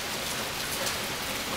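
Steady rain falls outdoors, a constant close hiss of drops spattering on surfaces with no pauses, no thunder and no voices.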